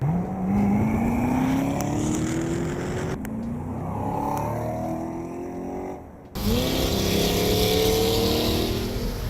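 Engine note of a 2020 Corvette C8 with a 6.2-liter overhead-valve V8, revving loud and close with rising pitch sweeps as it accelerates, a brief dip, then another strong pull.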